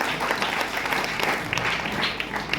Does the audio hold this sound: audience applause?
yes